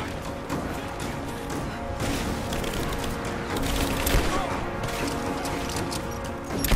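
A bomb detonates during play in Rise of the Tomb Raider, with heavy rumbling blasts and crashing debris over a dense game soundscape that stays loud and busy throughout, with no clear single boom.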